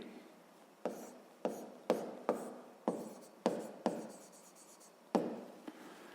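Handwriting on paper while working a sixth-grade geometry exercise: quiet, close pen or pencil strokes in short scratchy bursts, about a dozen over several seconds, with pauses in between and no speech.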